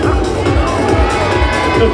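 A live crowd at an extreme sports stunt show screams and cheers for a rider, a dense, loud, continuous roar of many voices with children's shrieks mixed in.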